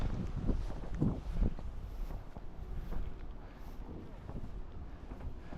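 Strong gusts buffet the microphone outdoors near a bridge, a steady low rumble swelling in uneven bursts, with faint voices talking now and then beneath it.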